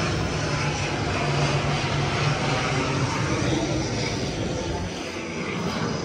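Fixed-wing airliner roaring overhead on its landing approach near Chennai airport, a loud, steady, broadband engine rumble that fills the whole stretch without a break.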